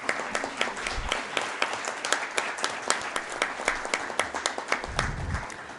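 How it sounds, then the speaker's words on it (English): Audience applause fills a board meeting room, steady rapid clapping from a modest crowd that holds for several seconds at moderate level without speech. "would you please give them a round of applause?"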